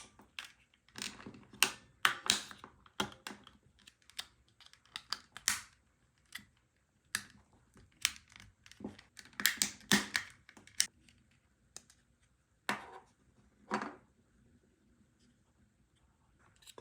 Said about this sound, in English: Let's take a look at the remote now. Run a pry tool along the sides.